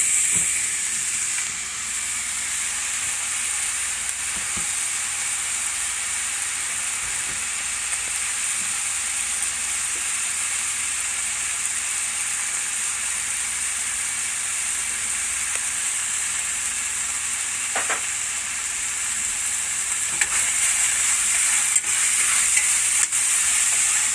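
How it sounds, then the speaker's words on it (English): Crumbled spicy appetito sausage, taken out of its skins, browning in a pan with a steady bright sizzle throughout and occasional clicks of stirring. "We're going to brown this sausage off also"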